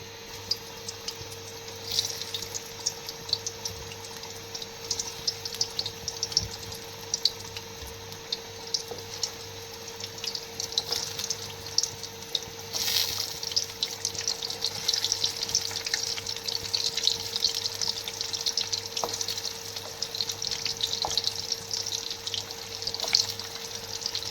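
Chicken tandoori nuggets fry in hot oil in a home kitchen, giving a steady, moderately loud crackling sizzle that swells midway and holds, with faint clinks of stirring and no talk.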